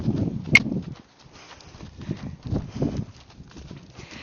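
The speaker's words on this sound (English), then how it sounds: "if you can get your pacey horse to trot" A Tennessee Walking Horse moves at a trot, its hooves striking the ground in a soft, uneven clip-clop at moderate distance, with a sharp click early on and faint rustling between the steps.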